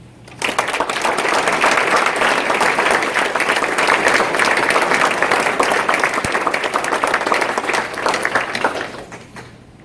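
Audience applause at a Gainesville police awards ceremony in the Hall of Heroes, a dense, sustained clapping that swells quickly, holds for several seconds and tapers off.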